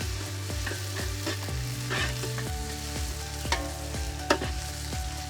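Onions sizzle and fry with ginger garlic paste for a restaurant-style chicken tikka masala, a steady close sizzle broken by a regular series of spoon scrapes and stirring knocks against the pan, with no talking.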